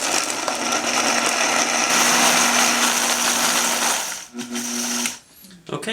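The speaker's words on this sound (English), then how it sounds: "we're going to add your raspberries into a blender" A blender whirs loudly and steadily through raspberries for about four seconds, then sputters and stops, with a voice speaking briefly over it.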